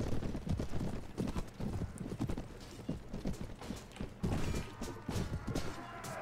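Horse hooves clopping in the medieval combat game Mount and Blade Warband, a steady, fairly loud galloping rhythm of repeated hoofbeats with occasional thuds and faint neighing.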